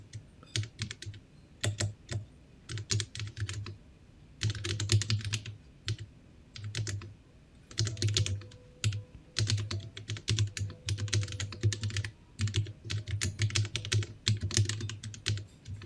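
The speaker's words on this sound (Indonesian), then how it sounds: "Kayak rata-rata memang keyboard yang nggak pakai case itu suaranya kayak gini memang." Rapid typing on a caseless 40% keyboard, close up: bursts of clacky keystrokes separated by short pauses, with a hollow, thocky tone, and no talking.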